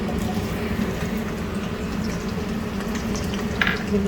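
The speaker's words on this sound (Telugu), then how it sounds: "ఇక్కడేమో ఆయిల్ కాగుతుంది. కొంచెం జీలకర్ర వేస్తున్నానండి." Cumin seeds sizzling in hot oil in a thick kadai, a steady close frying fizz with soft bubbling underneath and a few sharper crackles near the end.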